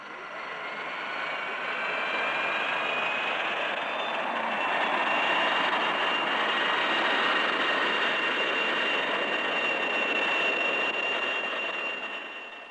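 Israeli fighter-bomber jet engines roar in a steady, loud, broadband whine with a high-pitched tonal edge, swelling slightly and holding for the whole stretch before easing off at the end, with no talking.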